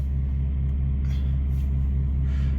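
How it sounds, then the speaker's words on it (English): A truck rumbles past on the road, heard from inside a vehicle as a deep continuous drone with a pulsing low throb and brief whooshes as it goes by, fairly close, with no talk. "Oh, there goes that truck."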